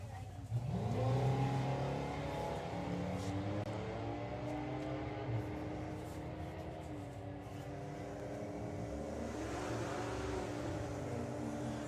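Drag racing cars at Santa Pod Raceway accelerate hard down the strip, a loud, close engine roar that climbs steadily in pitch through the run and holds at high revs.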